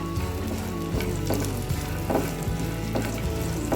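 Dry fruits cooking in a pan for sheer khurma crackle and sizzle loudly up close, with repeated stirring scrapes and a low steady hum underneath.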